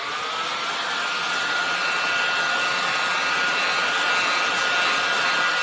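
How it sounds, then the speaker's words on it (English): A hair dryer on its lowest power setting heats beeswax on thread, giving a steady, close, continuous airflow whoosh that holds level throughout with no talking. "Turn on the hairdryer to the first power setting and start carefully heating it so as not to burn the thread."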